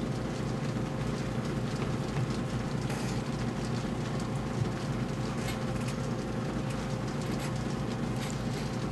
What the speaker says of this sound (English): Now it's raining, so we're gonna listen to that on the roof for a while.